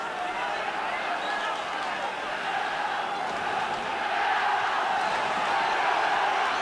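Football supporters at an Aston Villa v Arsenal League Cup quarter-final, a dense, steady stadium roar that swells near the end, with a commentator's voice faintly under it.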